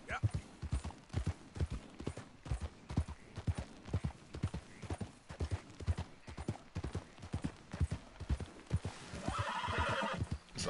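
A horse in Red Dead Redemption 2 gives a steady clip-clop of hooves throughout, closing with a whinny near the end, while someone talks intermittently over the hoofbeats.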